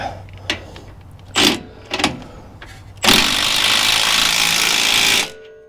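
A wrench snugs up a track bar bolt during a Clayton 3.5-inch Overland Plus lift kit install: a few sharp knocks, then a loud, steady mechanical whirr lasting about two seconds before it cuts off.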